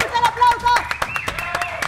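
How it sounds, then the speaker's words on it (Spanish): A brief scatter of hand claps mixed with excited voices, quick and uneven, close by. "¡Fuerte el aplauso!"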